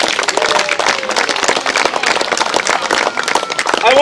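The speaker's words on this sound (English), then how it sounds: "Give them a round of applause" An outdoor crowd applauds the winners at a state park woodhick award ceremony, a dense, continuous clapping with some cheering and voices mixed in.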